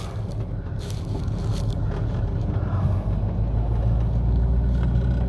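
An old Cadillac with failing brakes and no master cylinder drives along, its engine giving a steady, loud low rumble throughout with no talking.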